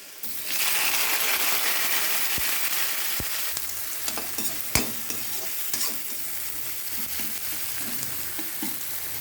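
In a wok, chopped onion, tomato, ginger and garlic fry in oil with black cumin, a loud sizzle rising at the start, then settling under repeated scraping and clacking stirs.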